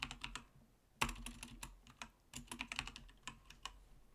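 Typing on a computer keyboard while entering HTML into Notepad, a steady run of close, crisp key clicks in bursts with short pauses and no talking.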